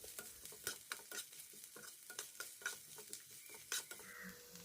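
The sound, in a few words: sautéing onion and green chilli in a pan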